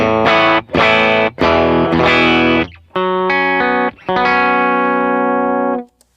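Guitar played through an overdrive pedal with a gritty, sizzling top end and tight, snappy compression, several loud picked chords and notes in short bursts, the last one ringing out and fading, with no talking.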